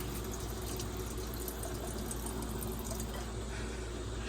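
Steady water pouring from a tap, a continuous close rush with no voices.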